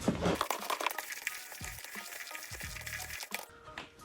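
Fishing groundbait being stirred by hand in a bucket by a lake, a close, continuous wet crunching and rustling with a few sharper scrapes and knocks, no talking.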